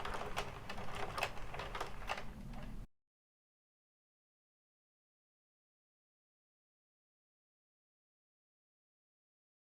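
Addi or Sentro circular knitting machine cranked through plain rounds of black yarn, a quick rattling clatter of rapid clicks for about three seconds before it stops into silence.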